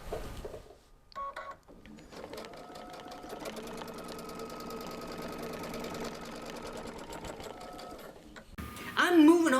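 A sewing machine running during free-motion quilting, a fast steady mechanical hum and needle clatter sustained for several seconds after a brief start-stop, with someone talking at the beginning and end.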